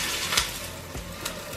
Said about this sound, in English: When it's searing, you cannot turn them until they're fully brown.